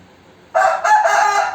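Hens cluck and call loudly in a short burst after a brief quiet start, close by at a chicken farm.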